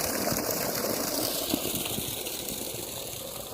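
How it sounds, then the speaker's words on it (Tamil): Water gushes steadily from a 5HP solar-powered Deccan motor pump beside a well, a continuous roaring splash over a low mechanical hum, close and unbroken. "எவ்வளோ தண்ணி ஊற்றுது பாருங்கள்"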